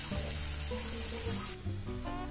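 Tomato paste sizzles in a pan of sautéed onions for a Bolognese sauce: a steady, close frying hiss with a few soft stirring scrapes and a brief dip partway through, no voices.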